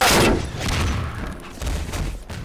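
Shotgun blasts in Half-Life 2 Deathmatch during a one-on-one match, a sharp loud burst at the start followed by further booming shots and impacts in quick succession.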